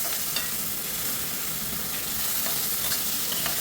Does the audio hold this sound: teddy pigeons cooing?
no